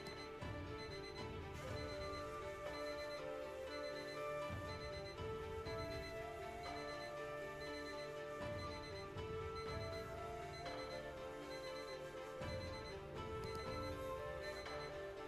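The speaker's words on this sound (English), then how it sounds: "okay, that's my alarm." An alarm clock rings in a repeating pattern of bright electronic beeps and tones, steady and sustained throughout, at moderate volume.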